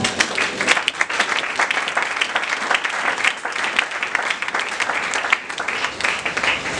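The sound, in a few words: congregation applauding and cheering for the Lord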